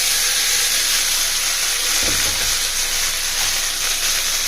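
Cooled rice drops into a pan of hot oil tempered with green chillies and curry leaves for peanut rice, setting off a loud, steady sizzling hiss with a brief heavier burst as it lands.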